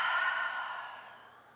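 One long exhale through the mouth during a yoga session, a breathy sigh that starts fairly strong and fades away over under two seconds, close to the microphone.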